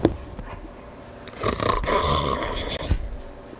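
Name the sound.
small dog snorting and grunting like a piglet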